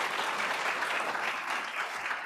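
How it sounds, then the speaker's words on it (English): An audience at a family business center's kickoff event applauds sponsors, a dense, steady wash of clapping from many hands, loud and continuous with no pause. "A deep thanks and round of applause for all these folks."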